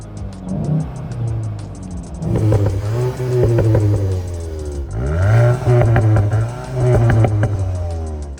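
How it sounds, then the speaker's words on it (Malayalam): Volkswagen Golf GTI in sport mode accelerating hard. The close, loud engine note climbs in pitch, drops at each gear change, then climbs again several times. "നമുക്ക് ഇവൻ്റെ ആക്സലേഷൻ നോട്ടും കൂടെ ഒന്ന് കേട്ട് നോക്കാം"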